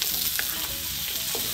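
Thai pineapple fried rice (khao pad sapparod) sizzles in a pan, left on one side to char slightly. A steady, close, crackling fry continues throughout with no speech.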